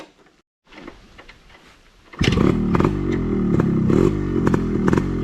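Yamaha RX100 motorcycle starting up: a few quiet clatters, then the two-stroke engine catches and settles into a loud, close, burbling idle with sharp blips of throttle.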